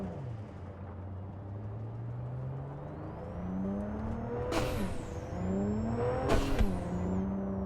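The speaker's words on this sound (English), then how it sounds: "that engine's doing some interesting sounds" A V6 car engine in the video game Cyberpunk 2077 revving up through the gears, a steady rising drone with two sharp bursts of acceleration and whine toward the end.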